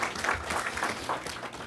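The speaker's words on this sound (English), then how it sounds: "How about a big round of applause?" A large audience applauds at a county commission for women awards ceremony honoring bookmark competition winners, a brief, fairly quiet burst of mixed clapping heard from a distance.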